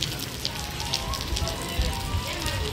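Dense, steady hiss of heavy monsoon rain pattering on surfaces at the Atal Foot Over Bridge in Ahmedabad, constant and close, with a low rumble underneath.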